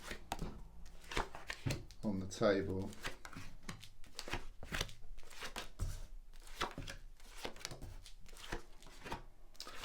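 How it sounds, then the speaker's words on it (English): Tarot cards being shuffled on a table in quick riffling bursts, mixed in with a person talking steadily throughout. "just going to shuffle the cards now"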